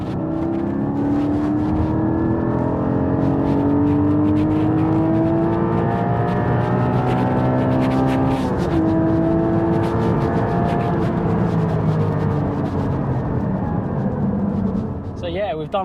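Porsche GT4 flat-six engine revving hard and climbing through the gears on a country road, with loud rising engine tones that drop at each upshift and pull back up, a steady continuous roar near and close throughout.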